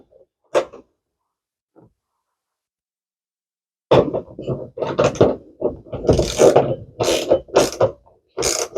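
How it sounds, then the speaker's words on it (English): Nut being tightened by hand tool while a Pro Roll roller shutter is fitted to a new 2023 Ford Ranger: a couple of isolated clicks, then bursts of close, rasping ratchet turns in quick uneven strokes. "Same again on the other side. Again, just get that nut tightened up."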